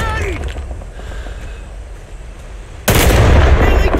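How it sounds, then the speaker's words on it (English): A grenade goes off in Rising Storm 2: Vietnam, a loud sudden blast that cuts in abruptly near the end after a stretch of quieter battlefield noise and voices. "Take cover. Grenade."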